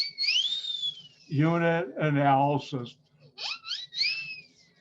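A playful sliding whistle, rising and falling, comes first, then a voice briefly speaks before a few more wavering whistled notes.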